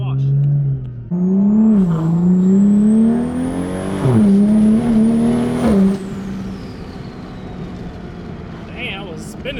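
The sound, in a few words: car engine spooling loudly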